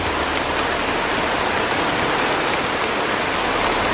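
Steady heavy rain pours outdoors, a dense, even hiss with no pauses across the whole stretch, loud and close, with no voices over it.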